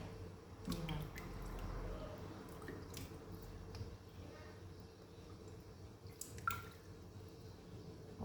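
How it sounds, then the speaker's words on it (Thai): Limes are squeezed by hand into a bowl of water, making faint wet squishes and scattered drips that sound quiet and close, with occasional sharper splashes. "ตอนนี้กำลังบีบ บีบน้ำกับเมล็ดค่ะ บีบในน้ำเลยค่ะ"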